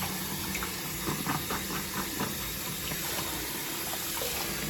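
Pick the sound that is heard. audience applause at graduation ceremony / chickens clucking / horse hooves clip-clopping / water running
water running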